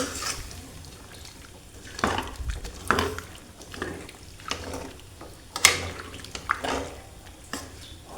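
Quiet scraping and clinking of a spoon stirring turnips and peas in a pot, in irregular strokes with soft wet sounds between.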